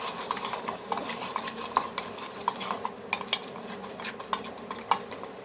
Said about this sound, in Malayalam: ഇഞ്ചി വെളുത്തുള്ളി പേസ്റ്റിൻ്റെ ഒരു പച്ച മണം മാറുന്നത് വരെ ഒന്ന് വാട്ടിയെടുക്കാം.